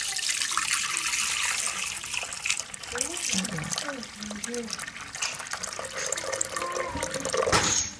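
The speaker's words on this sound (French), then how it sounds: "là j'ai versé l'eau" Water poured from a container into the reservoir of a Moulinex Companion food processor used for steaming, a continuous close splashing trickle with a clunk near the end, while a person talks over it.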